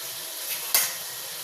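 Chopped tomatoes, four medium ones, drop into hot oil and chicken curry gravy in a pan, giving a steady close sizzle of frying with a brief louder hiss as they hit.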